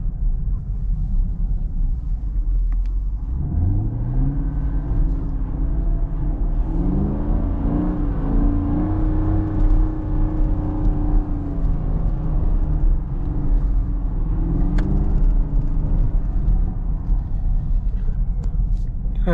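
Chevrolet Camaro LT1 V8 running in the snow after a cold start: a steady deep rumble with rising and falling revs and gear-like pitch sweeps, loud and close throughout.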